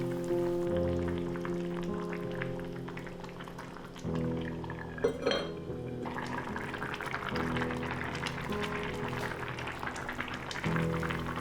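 Potatoes and tofu going into a Yunnan-style sour soup of fermented chili, tomato and sour papaya, a close watery pour and splash followed by the soft bubbling of the pot, with music playing underneath.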